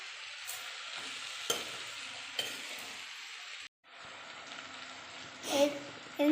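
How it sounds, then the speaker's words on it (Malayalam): Salted mango pieces for mango pickle being stirred in a bowl, a steady soft scraping and shuffling texture with a few sharper clinks of the spoon, a brief pause partway, then more stirring. "ഇനി നല്ലപോലെ ഇളക്കി കൊടുക്കാം."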